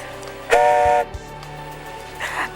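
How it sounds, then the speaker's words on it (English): A toy train whistle gives one loud, steady multi-tone blast lasting about half a second, followed by a quieter second whistle after a pause, with a low background hum. "so it's a train whistle."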